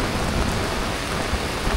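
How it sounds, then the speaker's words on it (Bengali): Heavy rain pours down at a hillside spot, a dense, loud, continuous roar of drops with a deep rumbling low end, no voices. "এখন বৃষ্টি হচ্ছে"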